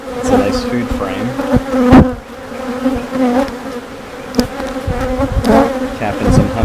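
Honeybees buzz steadily around an open hive as frames are inspected on a beekeeping farm, a dense close hum with a few sharper rises as bees pass near.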